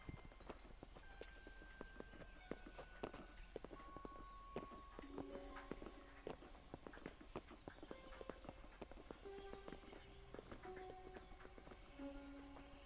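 Horses clip-clop at a walking pace in the medieval game Kingdom Come: Deliverance, steady hoof knocks running throughout over a constant outdoor bed, with a few sustained musical tones and faint background voices.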